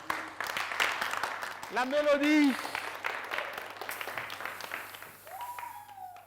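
Light studio audience applause on a Burkinabe TV entertainment show welcoming an arriving artist, sitting faintly under a host's voice that speaks over it and rises into a sung, drawn-out call.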